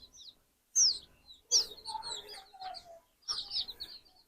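Young chickens cluck and give high chirps in short bursts, close by and fairly quiet, with brief silences between calls.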